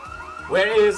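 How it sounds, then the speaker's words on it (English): Residential house alarms going off across a neighborhood: a loud, wavering electronic wail swells up midway and holds, over a low murmur of background noise. "Every single house alarm is being fucking tripped."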